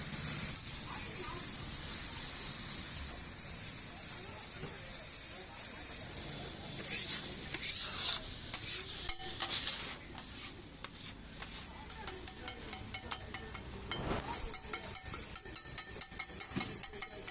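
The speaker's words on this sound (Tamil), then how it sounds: "நல்லா கிண்டி விட்டு லேசாக கொஞ்சம் கொத்தி எடுத்துக்கலாம்" Mango egg poriyal cooking in a pan gives a constant hiss and sizzle, with clatter and tapping from stirring and chopping that grows busier in the second half. A voice talks at times.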